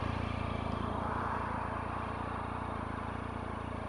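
A Triumph Tiger motorcycle fitted with an SC Project exhaust idles close by in a steady, even burble that runs unbroken through the clip without talk.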